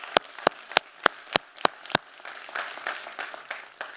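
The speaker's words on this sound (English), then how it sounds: "Give him a round of applause, please." At a downtown business forum, a few sharp, evenly spaced claps ring out first. More hands then join in, and the applause thickens into softer, continuous clapping.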